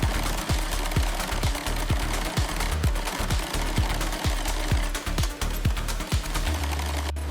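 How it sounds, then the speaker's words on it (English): Industrial sewing machines stitching garment panels in a factory, a loud, steady mechanical chatter with a fast regular thump throughout and no voices. "Industrial machines stitch the garment panels."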